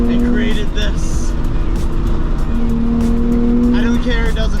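Nissan Z NISMO on a rally drive, its engine droning loud and steady in a continuous cabin-level roar with a sustained pitch that holds, dips and returns, while someone talks over it.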